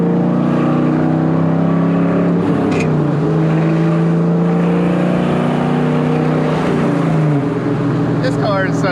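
A 1997 Ford Mustang SVT Cobra engine holds a steady, loud drone while revving, then its pitch drops and shifts near the end, with faint voices mixed in.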